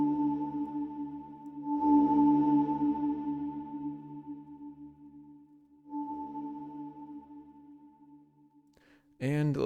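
Sustained ringing hybrid mallet tones washing out in a long, huge cathedral reverb tail, a second struck note blooming later, then a brief warbling sweep.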